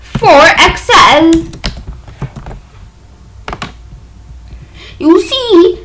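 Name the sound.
typing on a computer keyboard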